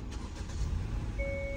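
A 2022 Hyundai Elantra engine turning over and settling into a steady low rumble, close by, with two sustained electronic tones chiming in near the end.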